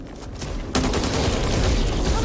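Guns blaze at a creature in the Back 4 Blood game, a sudden loud burst of rapid automatic fire that kicks in after a short quieter lead-in and keeps hammering continuously, close and dense.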